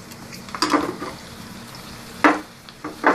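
Ginger and green chili dropped into hot ghee for Punjabi chole, giving a few short bursts of sizzling frying, each flaring up loudly then settling, with quiet gaps between and no talking.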